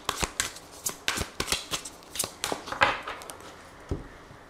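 Tarot cards are shuffled and cut close by, a run of quick, crisp riffling snaps and papery slaps in an irregular rhythm, heard alone without talk.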